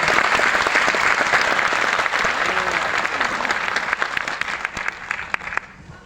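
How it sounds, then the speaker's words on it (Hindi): An auditorium crowd at an RCM leaders' stage event applauds in a loud, sustained wash of clapping that thins slightly toward the end, with a few individual claps standing out. "सभी का हार्दिक तालियों के साथ स्वागत करता हूं"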